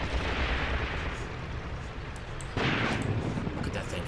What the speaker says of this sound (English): That is definitely an anti-tank rifle.